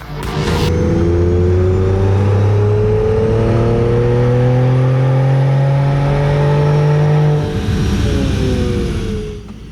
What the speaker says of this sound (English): Let's strap her back down on the dyno and do a little tuning, see what we can get out of it.